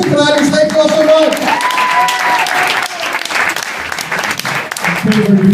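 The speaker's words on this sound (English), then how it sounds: "give it up for Alex" Applause from an audience at an English-language comedy club in Athens, a dense, steady roar of clapping filling the room, with voices and a few shouts rising over it.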